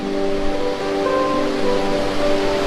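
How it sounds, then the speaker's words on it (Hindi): The Mandakini river flowing near Kedarnath in Uttarakhand, a steady, loud broadband rush of water that fills the whole short stretch without talk. "ये बह रही है सामने मंदाकिनी नदी।"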